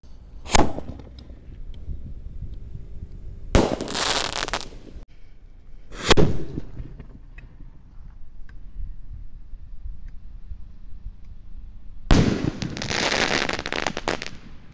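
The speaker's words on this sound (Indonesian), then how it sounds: "menyalakan banyak sekali mercon yang blusnya banter-banter spesial menuju Ramadan" Firecrackers and firework rockets set off outdoors to welcome Ramadan: sharp bangs followed by bursts of crackling and whooshing, four separate blasts spaced several seconds apart, loud and fairly close.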